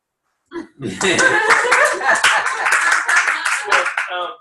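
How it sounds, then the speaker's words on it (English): Audience applause at a church teach-in, a dense burst of clapping that starts abruptly, mixed with laughter and some talk, sustained for a few seconds before tapering. "So you can applaud."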